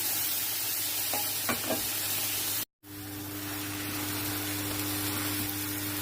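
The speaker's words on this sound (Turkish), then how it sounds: "Dikkatli bir şekilde şerbetimizi verelim." Syrup goes into hot ox halva and sizzles steadily as it is stirred, a close, continuous frying hiss with a few scraping strokes and a brief gap partway through.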